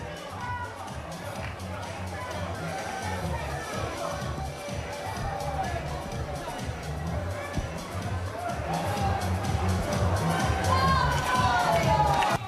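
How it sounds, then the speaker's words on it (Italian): A stadium crowd at an Italian athletics championship race cheers and applauds the new Italian champion, Mario Alberto Bertolaso: a steady, dense roar of voices and cheering that swells louder toward the end, with talking over it. "Ed eccolo qui l'applauso, se lo deve prendere anche il nuovo campione italiano Mario Alberto Bertolaso"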